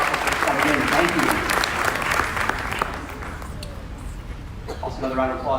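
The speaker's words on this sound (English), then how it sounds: "one more round of applause for our select choir" Audience applause at a Class of 2019 graduation ceremony for the select choir: a dense, loud wash of many hands clapping for about three seconds, then thinning out and fading under a quieter room murmur.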